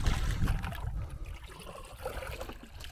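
Water splashes and trickles as it is collected or poured for yabbies outdoors, a close, continuous sloshing that gradually settles.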